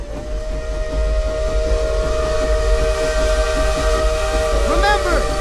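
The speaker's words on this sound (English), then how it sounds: "Each Terra train whistle develops its own unique sound." A steam train's whistle sounds as a long sustained tone lasting several seconds, loud and steady over a hissing, rumbling background.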